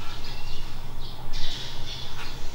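Sparrows squawk and chirp near a nest tucked into the end of a door track, a run of harsh, scratchy calls coming in short bursts against a steady low background hum.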